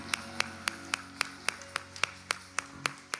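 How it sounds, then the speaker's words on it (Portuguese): Congregation at a Portuguese-language church worship service clapping in slow, regular unison beats, about a dozen sharp evenly spaced claps over a low sustained musical tone. "E aplauda ele que ele merece"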